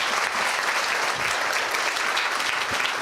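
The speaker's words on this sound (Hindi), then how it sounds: "आइए खुदावन के लिए एक जोरदार ताली बजाएं।" A church congregation claps loudly and continuously, a dense roar of many hands at steady volume with no talking over it.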